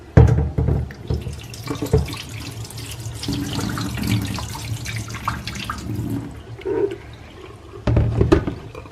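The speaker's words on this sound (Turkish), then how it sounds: "Ama önce bu içerisindeki suyu bir boşaltalım." Water poured out of an electric kettle into a sink, a steady splashing gush running close by for several seconds, with a few knocks and clatters of the kettle at the start and end.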